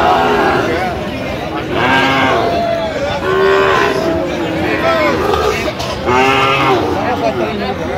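Sahiwal bull calves at a Dhaka cattle market moo repeatedly and loudly close by, several drawn-out calls in irregular succession, while people talk over the lowing.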